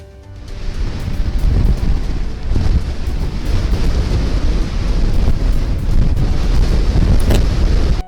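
Storm Ciaran brings howling wind buffeting the microphone and heavy surf crashing, a loud continuous roar with surges and gusts throughout.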